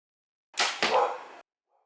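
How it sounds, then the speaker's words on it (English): A single dog bark sounds once, sharp and fairly close, with a faint trailing noise afterward and silence around it. "Sorry about the barking dog."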